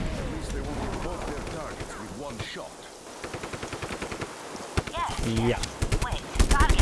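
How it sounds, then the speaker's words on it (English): In Just Cause 3, a machine gun fires rapid, evenly spaced bursts that grow louder toward the end, with someone talking over the start. "This is my machine gun, and I'm using it to destroy your face."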